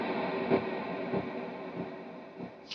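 A Stratocaster electric guitar played on the bridge pickup through delay and a little reverb, with a few picked notes ringing out and echoing repeats trailing behind them over a sustained wash.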